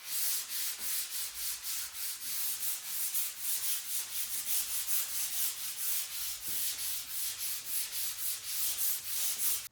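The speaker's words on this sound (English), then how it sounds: "I'm just taking that sandpaper and that sanding block and lightly sanding everything in between coats" Sandpaper wrapped on a sanding block rubs lightly over a clear-coated wooden coffee table between coats, producing steady, rhythmic back-and-forth scratchy strokes, close and fairly quiet, with no talking.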